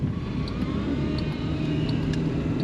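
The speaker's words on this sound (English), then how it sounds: "Full speed ahead, uphill, maximum load. We are at full throttle." A Honda Civic with catalyst damage and misfire faults, 100,000 miles past maintenance, accelerating uphill at full throttle under maximum load, a steady low engine drone heard from inside the car.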